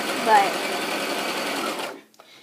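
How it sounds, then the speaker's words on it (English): Sewing machine stitching around a circle of fabric for a pillow. It runs as a fast, continuous whirring hum for about two seconds, then stops abruptly with a small click. "carefully begin stitching all the way around the circle"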